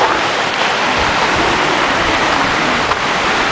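Steady, dense rushing of a mountain stream pouring over rocks in Kościeliska Valley, Tatra Mountains, a continuous broadband roar with no pauses and no voices.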